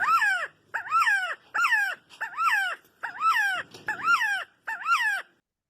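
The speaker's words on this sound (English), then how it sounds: "This is the quetzal bird. Let's listen to his song." Quetzal bird calling in a series of seven loud, clear, downward-swooping whistled notes repeated at an even pace about once every 0.7 seconds, close and alone before falling silent.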